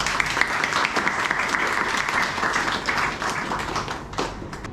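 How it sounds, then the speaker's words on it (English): Dense applause from a sizable film festival crowd, steady and loud throughout, with a few sharper claps standing out near the end. "a big round of applause for all the 3 teams"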